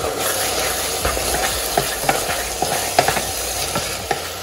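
Seasoned food being mixed in a pan during home cooking: a soft sizzle underneath, with a series of distinct utensil taps and scrapes against the pan over a few seconds. No speech.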